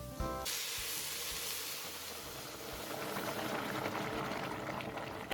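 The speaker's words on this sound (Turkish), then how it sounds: "Şimdi 2 litre sıcak su ilavesi yapıyorum." Two litres of hot water poured into a pot of toasted lentils for lentil soup, a steady close rushing, hissing splash that holds throughout without pause, no talking.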